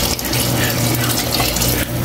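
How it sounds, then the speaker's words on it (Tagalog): Water poured from a tap or container into a cooking pot of beef balbacua, a loud, close, continuous splashing gush that fills the whole short stretch without any talk. "Lagyan na natin ng tubig yan."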